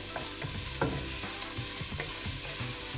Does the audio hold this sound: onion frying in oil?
yes